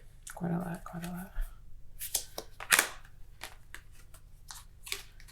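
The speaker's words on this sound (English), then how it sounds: "I'm going to keep shuffling." Tarot cards are shuffled by hand in short crisp riffling bursts, interrupted by someone speaking over and between the shuffles.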